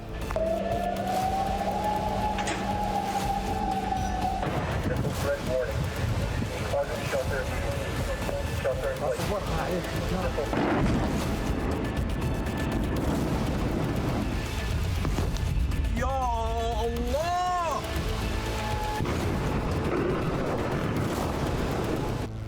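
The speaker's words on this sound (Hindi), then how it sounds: "बहरीन में धमाके" Explosions in Bahrain rumble under a wailing air-raid siren whose rising and falling tone drifts through a loud, roaring mix of blasts and distant booms, with voices present.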